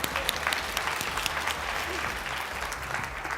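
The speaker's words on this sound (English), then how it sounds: "Let's give Microsoft a big round of applause." Conference audience applauding a corporate sponsor, a dense, loud, continuous round of clapping filling the room for a few seconds, with faint voices mixed in.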